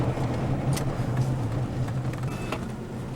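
A 1992 Mitsubishi Galant VR-4 launching hard from a standstill in a botched, clutch-slipping start, with a loud, steady engine roar close by and no speech.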